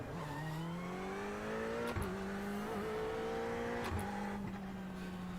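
A race car engine in a racing video game drones steadily during a lap run, its pitch climbing through gears with brief shift breaks at a constant moderate level and no talk.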